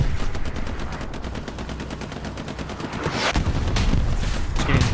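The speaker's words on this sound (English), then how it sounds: "But look at that tank getting shot at." Heavy gunfire pounds a tank in the Hell Let Loose video game on Utah Beach, with dense rapid machine-gun bursts rattling continuously and louder cracks and impacts building toward the end, with no speech.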